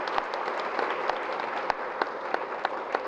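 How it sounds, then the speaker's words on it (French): Audience applause at a workshop on local government financing, a moderate wash of clapping with individual sharper claps standing out at irregular intervals. "Je vous demande de les applaudir,"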